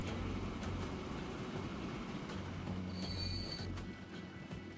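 A locomotive runs in the railway simulation game Transport Fever, with a faint, continuous rumble of rolling wheels and a brief high wheel squeal partway through.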